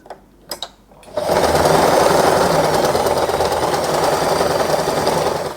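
A sewing machine stitches fabric for a sailor hair bow. A few short taps come first, then a fast, continuous mechanical whir runs loud and steady to the end.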